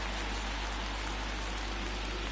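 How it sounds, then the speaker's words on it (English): Rain falls steadily at a baseball stadium during a 1988 National League playoff game between the Pirates and Mets, a constant, even hiss with no voices over it. "It is raining."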